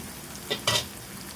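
Hot oil sizzling in a pan, with a short scrape and a louder burst of crackling as onion is added to fried garlic and stirred.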